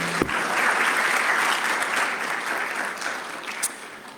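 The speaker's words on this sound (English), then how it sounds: "Ladies and gentlemen, a round of applause once again." A conference audience at an investment summit in Botswana applauds, a sustained wash of clapping across the hall with a few sharper claps standing out.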